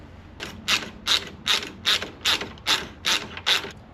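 A ratchet wrench tightens the large rear shock bolt with a washer on a Can-Am Spyder F3 three-wheeler, making about nine loud, evenly spaced metallic clicks close up with no voices.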